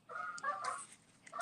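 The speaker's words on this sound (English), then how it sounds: "you can probably hear the geese in the background." Geese honking near a nature preserve, a few short nasal calls trading back and forth in the background, faint and somewhat distant with no talk over them.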